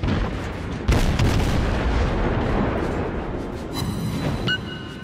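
Heavy naval shell impact from the World of Warships game, a loud booming blast that rolls on with rumbling debris and a second, smaller burst near the end.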